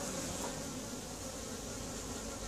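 Honeybees buzzing densely around a queen bee in a hive as she tears down a royal queen cell, a continuous close, steady drone of many wings with no voices.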